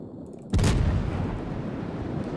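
A single heavy boom of cruiser naval gunfire in a warship video game with the Tier 7 New Orleans, striking sharply after a quiet moment and trailing off into a long rumbling roar.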